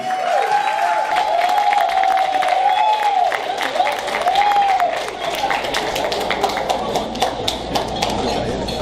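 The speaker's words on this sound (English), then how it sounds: "Clap some more while we wait." An audience at a graduation celebration applauds, sustained clapping with some cheering that carries on steadily while a tonal sound rises and falls above it.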